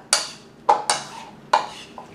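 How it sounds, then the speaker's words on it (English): Shrimp with herbs being stirred in a pan, four sharp metallic clinks and scrapes of a utensil against the pan, spaced unevenly and close, with no talk. "So I am just going to stir this up."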